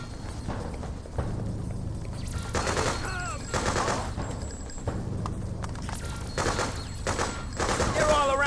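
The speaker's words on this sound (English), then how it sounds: "Hey, they're shooting at us!" Gunfire fills a firefight in the video game Freedom Fighters, with bursts of rapid automatic shots and scattered single cracks. Shouting voices and busy combat noise run alongside the shots.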